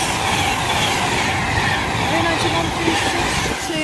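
A Virgin passenger train passes straight through platform 4 at Cheddington station without stopping, a steady loud rushing roar of wheels and rails that fills the whole moment at close range.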